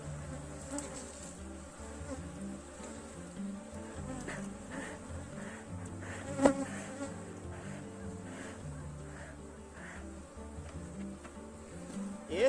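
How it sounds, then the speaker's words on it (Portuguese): Aggressive swarm of honeybees at a hive box, a dense continuous buzzing drone close by with a few louder passes near the mic. "Enxamezinho bastante agressivo."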